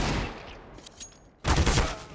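Desert Eagle pistol fire in a video game: a dense burst of loud, close shots erupts in the last second, after a quieter stretch of game ambience with faint earlier shots.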